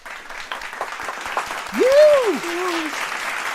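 Applause greets the winner of Best R&B and Soul Album at a casual award show, a steady patter of clapping with a voice cutting in briefly over it.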